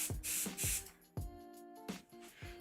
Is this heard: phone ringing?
no